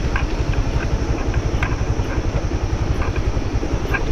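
A motorcycle's engine chugs in a steady, close, pulsing rhythm as it rides a wet, muddy offroad mountain track between Ghasa, Myagdi and Baglung in Nepal.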